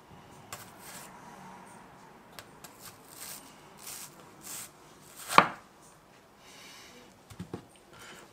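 A thin-bladed handmade kitchen knife chops food on a board, giving soft, scattered cuts with one sharp, close chop standing out near the middle and a couple of lighter taps toward the end.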